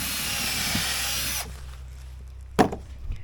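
A small drill bores through a template while building a porch railing. The close, steady whirring grinds for about a second and a half and stops, followed by a single sharp knock.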